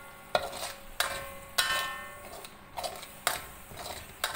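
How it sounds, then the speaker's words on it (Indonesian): Shrimp cooking in a pan while being made into serunding udang: a quiet sizzle broken by sharp scraping stirs about every half second to second, close up with no talk. "Ini kita masak udang."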